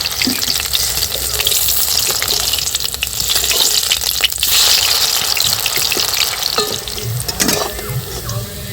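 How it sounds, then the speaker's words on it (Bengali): Radish pakora coated in gram flour batter frying in hot oil, a steady close sizzle and bubbling that runs throughout with occasional stirring scrapes, no voices. "এটাও লাল লাল করে ভেজে নিয়েছি তুলে নেবো"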